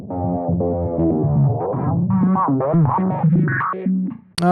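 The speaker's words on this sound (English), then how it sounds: "I added the distortion plugin on it" Electric guitar heavily processed with a distortion plugin in a synthwave track, sustained buzzy notes shifting in pitch, up close and loud, sounding more like a synth than a guitar.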